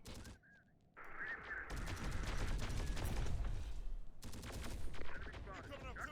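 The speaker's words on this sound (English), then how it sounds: "Coming artillery fire." Artillery and heavy gunfire in the video game Terminator Dark Fate: Defiance, a dense sustained barrage of loud booms and rapid bursts. A short quieter gap comes near the start, and the fire continues almost without pause after that.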